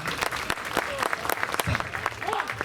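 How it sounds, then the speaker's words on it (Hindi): Audience clapping at a Hindi comedy poetry gathering, scattered sharp claps over a murmur of crowd and talk, moderately loud and uneven. "तालियां बजा देते हैं।"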